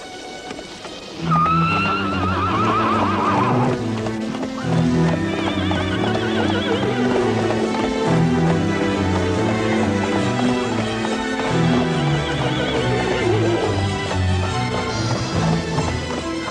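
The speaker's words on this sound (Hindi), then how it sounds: "मुझे एक दूसरा घोड़ा मिला है" A cartoon horse neighs and whinnies over a busy animated soundtrack with music, a rising whinny near the start and more calls later, with clip-clop hooves suggested underneath.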